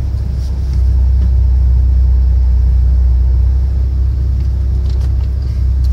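A Porsche Carrera 4S is driven at full throttle on a road in Germany. Its engine gives a loud, deep, continuous rumble heard from inside the car, with no talking.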